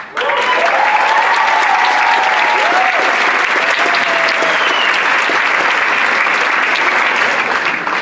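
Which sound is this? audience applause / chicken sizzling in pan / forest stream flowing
audience applause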